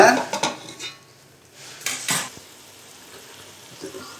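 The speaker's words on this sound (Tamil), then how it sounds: "இப்போ இது மாதிரி கிளறி விட்டுடுங்க." Tomatoes being stirred in a metal pot for prawn biryani: a few clattering scrapes and knocks of a spoon against the pan, in two short bursts separated by quiet, with faint sizzling underneath.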